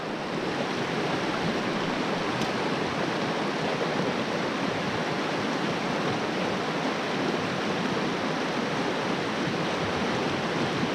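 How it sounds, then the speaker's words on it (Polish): A fast mountain river rushes in a dense, unbroken roar of churning water, steady and fairly loud throughout, with no voices. "Taka piękna górska rzeka."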